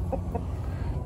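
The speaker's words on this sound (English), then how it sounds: "plus some of our just barnyard chickens here" Soft, short chicken clucks sound twice near the start against low background noise.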